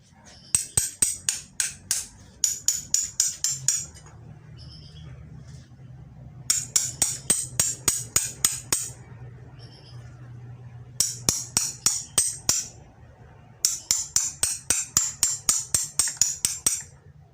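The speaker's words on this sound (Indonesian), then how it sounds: "Terus ini sini juga dipahat juga di antara akar ya teman-teman." Hammer and chisel carving between the roots of bonsai stock, bursts of rapid sharp metallic taps repeated in several rhythmic runs, close and clear.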